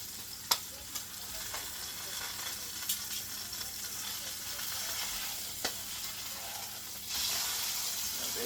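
Meat searing in hot oil in a pan for a Christmas dinner, a steady hissing sizzle with occasional sharp pops and crackles, continuous and fairly close, growing slightly louder near the end.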